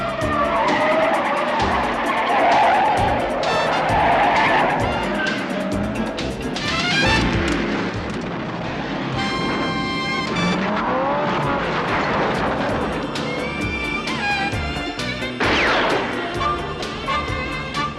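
Film car chase with tires squealing and skidding repeatedly over roaring engines, loud and continuous with brief pauses between bursts.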